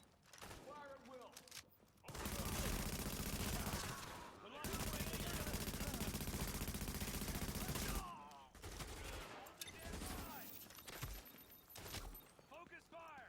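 Sustained bursts of automatic gunfire in The Division, loud and dense, in two long stretches broken by brief pauses, with shouted voices and lighter shots in the quieter gaps.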